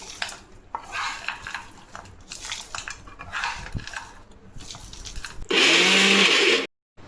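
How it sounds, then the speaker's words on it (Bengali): Roasted laddu ingredients are ground into paste in an electric mixer grinder: utensil clatter and scraping first, then a loud, steady whirring grind for about a second before it cuts off abruptly. "ঠান্ডা হয়ে গিয়েছে, এবার এটাকে মিক্সিতে বেটে নেবো।"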